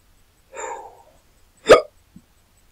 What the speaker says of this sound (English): excuse me, hiccups.